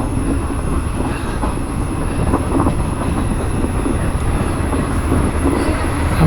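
Indian Railways passenger train running along tracks past the Bharathapuzha river near Shoranur and Ottapalam, a steady, loud rumble of wheels and carriage noise continuing throughout with occasional squeal and clatter.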